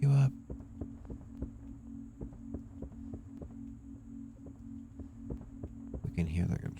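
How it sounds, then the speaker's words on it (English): A control panel in The Glass Staircase video game whirring with a low, steady hum and a rhythmic, pulsing throb repeating at an even pace. It is quiet, and a brief burst of louder noise comes near the end. "We can hear the control panel in there whirring."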